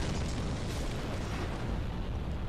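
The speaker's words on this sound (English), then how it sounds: "Fuck, that's loud, this explosion." A loud, sustained explosion roars in a modded Dark Souls game, a dense rumbling blast that fills the whole clip with heavy low-end boom and no talk.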